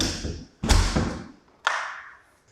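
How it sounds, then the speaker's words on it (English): A door is pushed shut in an empty, echoey two-bedroom rental unit, giving two solid thuds about a second apart, each trailing off into room reverberation. "I'll shut the door."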